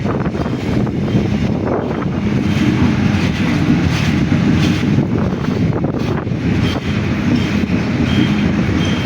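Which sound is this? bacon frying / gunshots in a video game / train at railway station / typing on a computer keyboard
train at railway station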